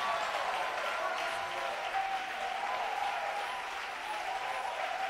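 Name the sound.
congregation applauding in church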